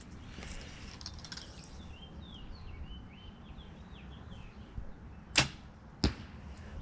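Arrows from a CP400 crossbow strike an outdoor target with two sharp, loud thuds about half a second apart, while birds chirp softly in the background.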